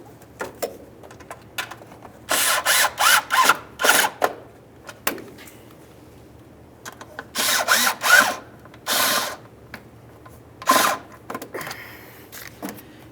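A ratchet wrench tightens the lamp assembly mounting bolts on a Buick LeSabre, loud clicking bursts in several separate runs with quiet pauses between, close up and without talk.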